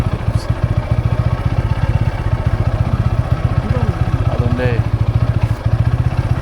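A motorcycle engine runs close by on a tea-garden estate in Fenchuganj, Sylhet, with a steady, rapid thumping idle that holds through the whole stretch and faint voices underneath.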